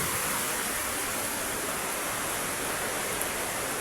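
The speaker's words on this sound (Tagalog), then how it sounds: "Malakas ang hangin." Strong wind roars steadily outdoors, a dense broadband rush with no pauses, loud and close to the microphone.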